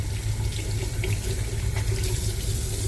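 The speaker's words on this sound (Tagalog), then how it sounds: "Ito ang aking lababo guys." Tap water pours steadily into a kitchen sink, a continuous close, full rushing splash with no pauses or voices.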